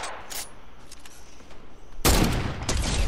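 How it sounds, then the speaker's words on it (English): Rapid burst of Fortnite gunshots, sprayed without aiming, erupting loudly after a quieter stretch of faint game sounds and a couple of earlier distant shots. "I'm just throwing shots in there, I'm not even aiming."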